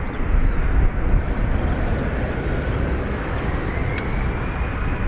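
An aircraft departs from the north runway at Dublin Airport, its broad jet roar rumbling loud and steady from a distance and slowly shifting in tone as it climbs away.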